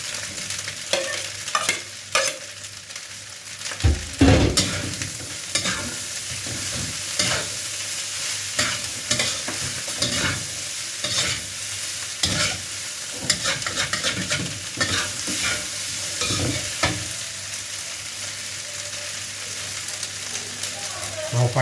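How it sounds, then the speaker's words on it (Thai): Onion and carrot stir-fried in a pan for crab fried rice, a steady sizzle broken by repeated scraping strokes of a spatula against the metal, with no talking. "ใส่หอมหัวใหญ่กับแครอทลงไปเลยครับ"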